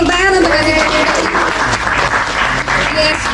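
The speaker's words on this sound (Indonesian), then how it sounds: "Adik-adik kita berikan tepuk tangan untuk adik-adik." Children's audience at an Indonesian ventriloquist community gathering breaks into loud, sustained clapping that fills the room throughout, with voices mixed in under the applause.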